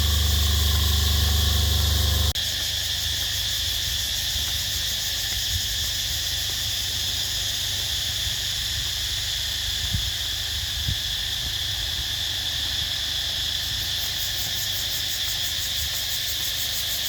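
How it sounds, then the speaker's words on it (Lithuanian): Cicadas in a Thai jungle drone in a loud, continuous high-pitched buzz that stays steady throughout, with a low rumble underneath and no talk. "Čia cikadų garsas"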